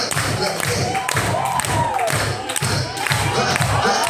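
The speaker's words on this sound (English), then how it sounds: "Clap your hands now, y'all" A crowd at a wrestling event claps along to the Cha-Cha Slide in a steady, evenly spaced beat, with loud rhythmic hits under cheering and voices.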